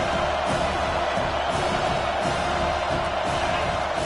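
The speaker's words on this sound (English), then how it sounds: "Listen to the crowd energy here in the early going." A dense stadium crowd roars and cheers steadily through an American football game, a loud continuous wash of many voices with no pauses.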